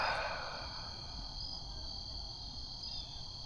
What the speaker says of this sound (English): I can hear birds and crickets just chirping and calling out